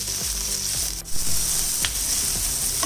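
Sliced onion softening in hot oil in a pan for malai kofta gravy, giving a steady, close sizzling hiss for about three seconds with a brief dip near the one-second mark and low tonal sounds underneath.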